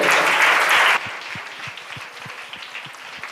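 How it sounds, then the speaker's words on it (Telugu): A children's church audience at a Christmas service claps loudly in a dense burst for about a second, then scattered individual claps continue more softly. "బిగ్గరగా చప్పట్లు కొడుతుంది"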